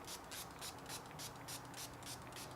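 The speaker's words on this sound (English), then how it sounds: "spray this on quite a bit here" Headlight restorer liquid from a Turtle Wax kit is sprayed onto a car headlight in a series of quick, rhythmic, faint hissing bursts, close by and with no voice.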